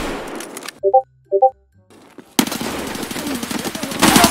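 Automatic gunfire in the video game Escape from Tarkov: after two short tonal blips, a dense rapid burst of shots erupts and continues loudly to the end.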